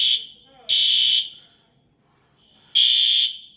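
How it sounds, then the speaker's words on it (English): An apartment stairwell fire alarm sounds loud, harsh electronic beeps in long bursts separated by pauses, with faint background noise between them. "That alarm has been going off in the stairwell, the emergency exit."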